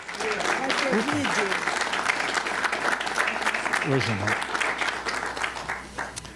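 A church congregation applauds in dense, steady clapping that fills the whole stretch, with a voice speaking and singing over it.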